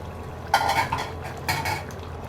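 A lid is set over a pot of dalia khichdi, a broken-wheat porridge, giving two close metallic clanks about a second apart with quiet kitchen hiss between.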